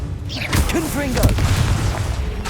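Confringo spell explosions in Hogwarts Legacy: booming blasts and bursts layered with game effects and swooping tones, dense and continuous, with a voice shouting spell names over the action.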